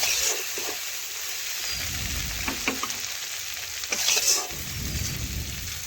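Onions and tomatoes sizzle in a wok as a spatula stirs and scrapes them up, with a steady frying hiss and a few louder clanks of metal against the pan.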